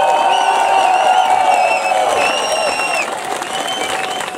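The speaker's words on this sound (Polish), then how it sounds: "Ogromne brawa jeszcze na zakończenie." Concert crowd at an outdoor show in Leśna applauding and cheering at the end of a performance, dense clapping with whistles and shouts, loud and close at first and thinning slightly toward the end.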